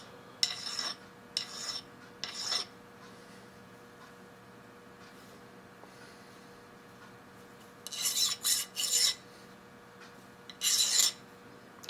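A hand file rasps burrs off small metal parts for a Stirling-engine helicopter model, short bursts of scraping strokes in two groups separated by quiet pauses, close and crisp.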